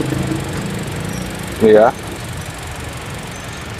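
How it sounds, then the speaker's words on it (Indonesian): The engine of a Toyota Innova Reborn runs at idle, a steady, fairly loud mechanical hum throughout. Someone talks briefly close by over it. "Nah, ini warna mesin kayak gini"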